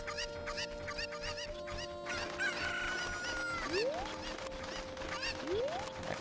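A Cucco chicken in Zelda: Ocarina of Time clucking and squawking repeatedly, with two rising crow-like calls near the end, set against game music.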